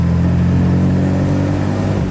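A 1954 Kaiser Darrin 161 with a 6-cylinder engine and a light body drives along, its engine a loud steady hum with a smooth low drone throughout.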